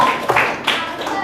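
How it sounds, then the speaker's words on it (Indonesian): Children in a classroom clap together in a short burst of applause, several bursts of dense hand claps close by, with some speech-like voices mixed in. "tepuk tangan buat kalian semua"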